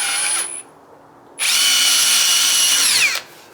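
A power drill bores at an angle into a CNC-cut Stratocaster-style guitar body, a brief whirring burst, a pause, then a loud sustained steady whine that winds down at the end.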